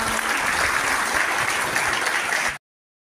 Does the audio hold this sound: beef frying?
no